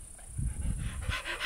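A dog pants close by inside a car, with quick breathy puffs and a few soft whimpers over a steady road or engine hum.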